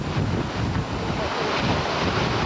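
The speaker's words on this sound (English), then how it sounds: "The waves are cresting out there in the Atlantic Ocean" Atlantic Ocean surf at Rehoboth Beach, Delaware, during Hurricane Isabel, rushes and crashes steadily under heavy wind buffeting the microphone, loud and close with no voices.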